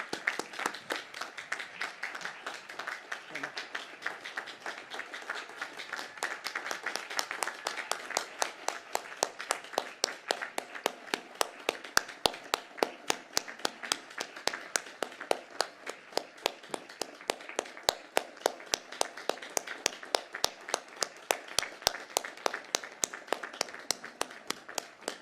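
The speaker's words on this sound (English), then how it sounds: "Please join me in giving them a round of applause" Audience at a 2021 college commencement ceremony claps steadily for about twenty-five seconds, with sharp, dense, slightly uneven hand claps that build in strength and hold through to the end.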